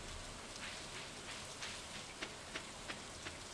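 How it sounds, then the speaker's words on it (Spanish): Rain falls steadily in the farming game Stardew Valley, a soft continuous patter with a few slightly sharper drops toward the end, no voices. "¡Oh! Ha llovido."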